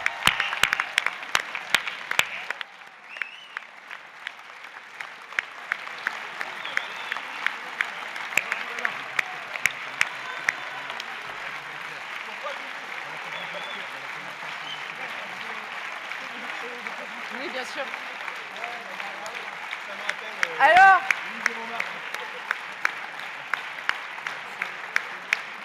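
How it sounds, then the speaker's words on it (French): Audience applause at a conference in Metz, steady and fairly distant, with scattered sharper claps, lasting most of the time and swelling briefly near the end, with faint background voices. "Vous avez le droit de vous lever et les applaudir encore plus fort."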